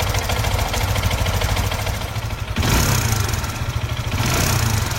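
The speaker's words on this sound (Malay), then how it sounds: "tu contoh bunyi tensioner yang dah ada problem, dan juga rantai kecil ataupun timing chain kita dia dah jadi kendor" SYM VF3i motorcycle engine idling with a loose tensioner and slack timing chain, giving a steady, close metallic rattle and clatter over the engine note, with a brief blip of revs midway.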